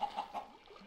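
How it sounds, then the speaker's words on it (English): A chicken in a video game gives a few quick clucks in a short rhythmic burst, close and fairly soft, then trails off. "this chicken tried to kill me"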